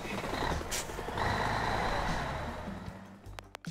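A truck in Teardown backs up with a steady string of reversing beeps over an engine rumble, ending in a couple of sharp clanks. No one speaks.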